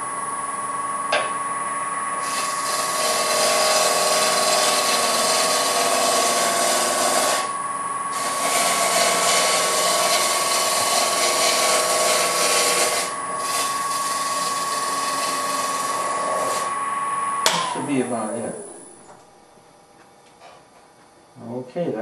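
A wood lathe spins a salt shaker blank at roughly 1100-1200 rpm, giving a loud steady whine with a constant tone and repeated tool contact. It then spins down and goes quiet near the end.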